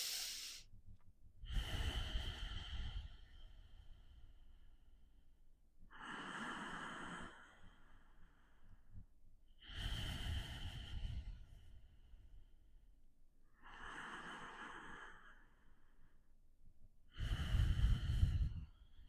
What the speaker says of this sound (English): Start with your ujjayi breathing.